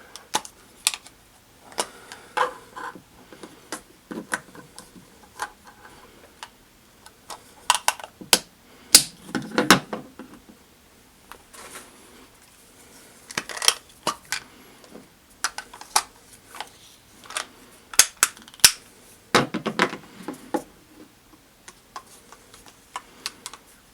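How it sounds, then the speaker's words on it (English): GoPro HERO3 and HERO2 cameras slide into their plastic cases in a run of irregular clicks, snaps and scraping taps, close and sharp, with quiet gaps between bursts and no speech. "We're now going to go ahead and just slide the cameras into their cases."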